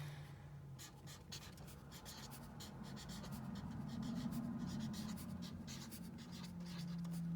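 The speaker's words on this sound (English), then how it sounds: "So I'm going to write that as my title." A pen or pencil scratches steadily across paper while a title is written in an interactive math journal, a close, continuous scraping with quick stroke ticks and no talking.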